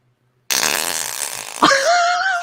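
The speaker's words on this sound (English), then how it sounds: "That's like an audiophile fart toy." A fart noise toy lets out one loud, sustained, buzzing raspberry lasting about a second, then a higher squealing tail that bends upward, heard alone.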